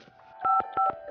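Telephone dialing the police emergency number, a short run of close, clear keypad tones, two of them louder and more sustained.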